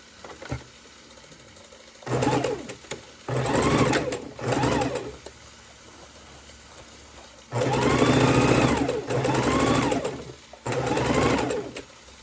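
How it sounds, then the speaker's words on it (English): A sewing machine stitches quarter-inch seams across rows of a four-fabric quilt in several steady, close runs of a few seconds each, separated by short quiet pauses. "we will be sewing our 1/4 inch seams all the way across"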